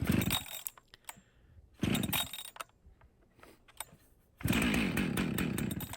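A Husqvarna 45 Mark II chainsaw, set on choke with the decompressor pressed, is pulled and sputters in short bursts, then catches and roars steadily, loud and close.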